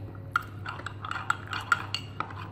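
Rice flour being stirred into milk in a cup with a spoon, light scraping and clinks of the spoon against the cup in short irregular strokes, close and quiet.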